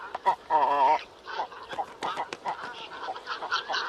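A raucous chorus of great cormorant calls at a nesting colony in Kazakhstan, with harsh croaks, guttural growls and clucking notes overlapping from several birds at close range.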